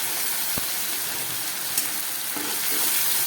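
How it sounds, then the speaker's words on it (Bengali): A paste of onion, dried red chilli, ginger and black pepper sizzles in the pan for a Bengali fish curry, with a steady hiss broken by a few sharp scrapes and knocks as it is stirred. No talking. "এবার এইটা দিয়ে খুব ভালো করে আমি কষাবো"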